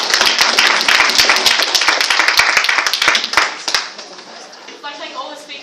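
An audience at a university debate claps in a burst of dense applause that gradually thins and fades out toward the end.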